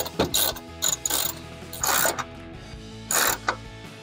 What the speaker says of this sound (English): Grab your 10 millimeter socket, ratchet, or your screwdriver like we used to take it off, and go ahead and tighten that grill down